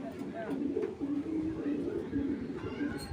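Pet pigeons in a farm coop coo in a low, repeated murmur, steady and fairly close, while someone talks over them.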